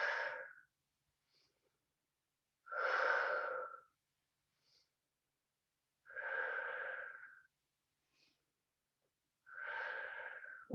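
Slow, deep breaths taken while holding a Pilates plank, four long airy exhalations spaced a few seconds apart with silence between them, close and clear.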